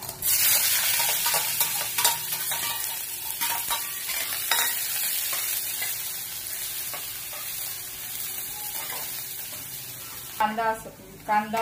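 Chopped onion frying with cumin for a tempering over a high gas flame, a continuous loud sizzle with stirring scrapes throughout and a brief burst of voice near the end.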